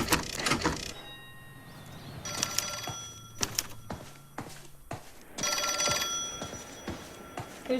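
An old-fashioned telephone bell rings in L.A. Noire, sounding in several separate bursts with quiet pauses between them, alongside a few sharp clicks and thuds.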